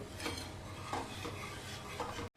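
Milk being stirred in a pot over a medium gas flame while reducing for mango malai ice cream, with soft repeated scraping swishes in a steady rhythm over a low background hiss, quiet and close.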